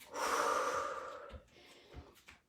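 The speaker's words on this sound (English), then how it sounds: "maybe take one more deep breath in with me" A single slow, deep inhale, loud and close, followed by a softer breathing tail, during a guided exercise circuit workout cool-down.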